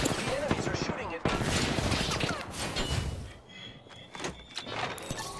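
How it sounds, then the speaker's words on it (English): Enemy gunfire in Apex Legends, with dense bursts of rapid shots, loud and close, along with sharp mechanical clanks and layered game effects that carry on through the whole stretch. "The enemies are shooting at me."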